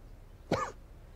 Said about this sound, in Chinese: 怎么咳嗽了？